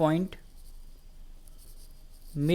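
Pen scratching on paper during a geometry lesson, a faint, steady scratching between bits of a man's speech at the start and end.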